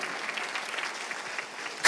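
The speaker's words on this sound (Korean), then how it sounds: "믿으시면 박수를 치며 하나님께 영광을 돌리시라고요." A church congregation at a Sunday worship service claps together in steady, fairly distant applause, which swells briefly louder right at the end.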